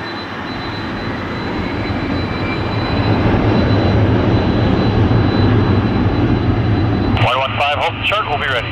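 An airliner takes off from runway 06 left at Toronto Pearson, its jet roar swelling loud and steady, then radio voices break in near the end.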